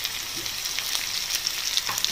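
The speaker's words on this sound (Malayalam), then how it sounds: "ഇതെല്ലാം കൂടെ നന്നായിട്ടൊന്ന് വഴറ്റിയെടുക്കാം." Curry leaves and coriander sauté in hot oil for a fish biryani, a brief, even hiss of frying with small crackles, heard close and alone.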